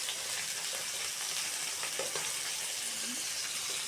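Small jatka hilsa fish fry in oil in a pan, producing an even, continuous hissing sizzle close by, with occasional soft bubbling pops and no voices.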